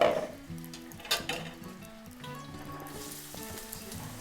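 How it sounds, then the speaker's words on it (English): Food sizzling and crackling in a hot pan, a steady fizzing hiss with occasional louder pops and faint background tones. "You want to hear that sizzle."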